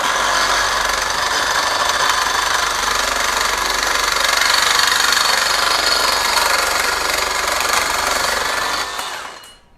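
A FLEX FX2241 24V brushless one-handed reciprocating saw cuts through aluminum with a loud, steady, harsh buzzing rasp that runs close and continuous for about nine seconds before stopping.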